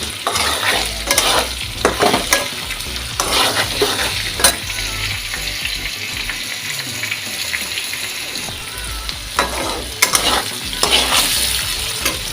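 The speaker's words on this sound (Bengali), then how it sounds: "একটু নাড়াচাড়া করি" Potatoes and onions sizzle loudly in an oiled pan for a jackfruit curry, with steady frying hiss and repeated scraping, stirring strokes close up, no talking.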